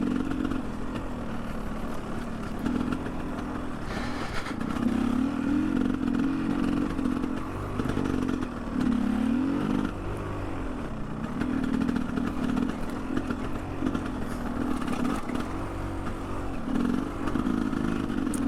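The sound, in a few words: Honda XR650R motorcycle being ridden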